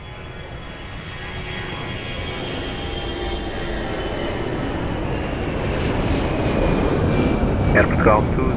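An airliner on final approach to land at Lisbon Airport, its engines a steady, broad roar that swells slightly as it draws nearer, with a faint radio voice in the background.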